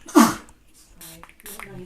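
One sharp, loud sneeze bursts out close by, followed by quieter breathing and soft voices.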